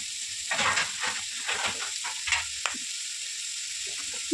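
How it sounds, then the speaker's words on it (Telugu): Beetroot fries in a pan with a steady sizzle and soft hiss, broken by a few scraping stirs, close and moderately loud with no voices. "బీట్రూట్ని ఫ్రై చేసేసుకున్నాము"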